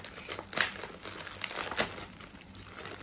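Crinkly rustling of a plastic packet being handled and pulled at, with a couple of sharper crackles, close and moderately quiet.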